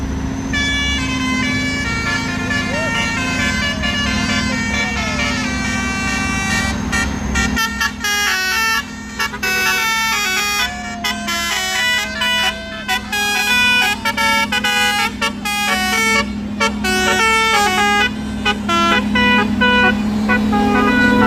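Truck horns blare on a road in Indonesia, with Fuso and Hino trucks. Loud, sustained, multi-tone honking sounds close by and continuously, with the horn melody changing pitch in rapid patterns over engine noise.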